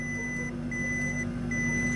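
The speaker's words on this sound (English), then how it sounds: "what's that beeping coming from the booth over there?" Electronic beeping from a nearby booth: a steady tone pulses in short on-off bursts over a low background hum, moderately loud and with no voices.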